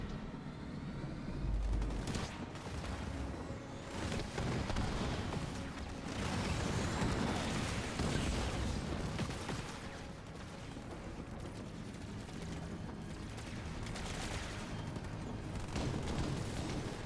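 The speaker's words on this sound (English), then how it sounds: "Why are those missile sounds playing non-stop?" Missile sounds playing non-stop in a Halo Wars 2 1v1 match, a continuous faint barrage of launches, booms and rapid fire, steady and distant-sounding, with no talking.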